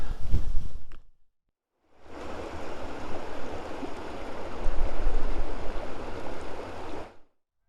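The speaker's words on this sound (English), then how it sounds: "along by the river here, the Coquet" The River Coquet flows past a farm below the Cheviot hills, a steady, fairly loud rushing stream heard outdoors, starting after a brief gust and a short pause.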